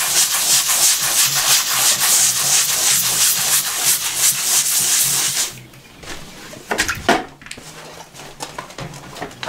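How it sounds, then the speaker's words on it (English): Old wallpaper paste is scrubbed off a wall in fast, rhythmic rubbing strokes, loud and close for several seconds before easing into quieter, scattered scrapes and touches. "as you're stripping your wall, what you want to remember is to clean off the old paste as you're going. Just give the wall a scrub in an area."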